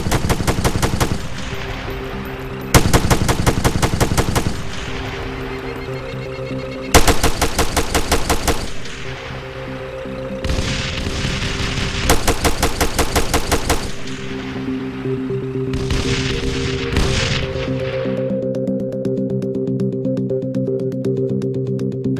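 In the Arma 3 video game, a heavy weapon fires loud automatic bursts with a hard, rattling cadence. Several volleys of different lengths ring out one after another over a steady low engine-like hum.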